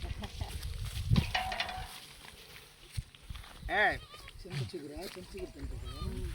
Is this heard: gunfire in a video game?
no